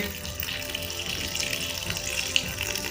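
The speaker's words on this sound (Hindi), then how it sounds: "ये हमने इसमें पानी ऐड कर दिए।" Water is poured into a cooking pot of aloo gosht, meat and potato curry, giving a steady close gushing splash with a bubbly, hollow ring for the whole few seconds.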